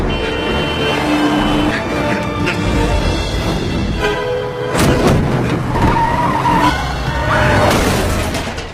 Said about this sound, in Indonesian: Fred Clem yang kabur menggunakan mobil